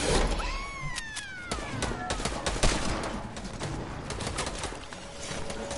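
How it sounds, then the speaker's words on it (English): Gunfire in a video game: rapid, dense cracks of shots run throughout, mixed with whistling game effects and a voice heard briefly. "Whoever's shooting me down"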